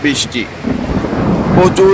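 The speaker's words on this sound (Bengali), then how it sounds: "আপনারা দেখতে পাচ্ছেন বৃষ্টি হচ্ছে, প্রচুর" Heavy rain pours steadily on a hot night in Sylhet, Bangladesh, with low rumbling thunder rolling underneath a constant hiss of rainfall; a couple of brief higher tones break through near the end.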